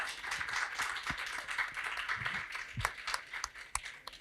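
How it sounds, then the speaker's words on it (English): An audience applauds steadily, a dense crowd of hands clapping at a moderate distance with a few sharper individual claps standing out. "Let's give everybody one more round of applause."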